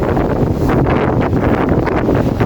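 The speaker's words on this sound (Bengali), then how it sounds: "বাতাস, প্রচুর বাতাস।" Strong outdoor wind buffets the microphone in a loud, continuous rush during a rainy trip near Barishal, with no voices.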